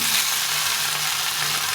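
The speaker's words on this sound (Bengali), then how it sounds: "ভালো করে একটু ভেজে নেব।" Eggplant, potato and mixed vegetables fry in a pan with a steady, close hiss of sizzling oil throughout, no voices over it.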